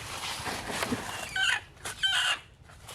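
Egg-laying hens cluck in short, fairly quiet bursts nearby, a few separate calls rising over a low background murmur.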